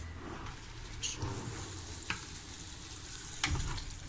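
Steady sizzling of celery stew ingredients with tomato frying in a pan, with occasional scraping clinks of a utensil stirring through it.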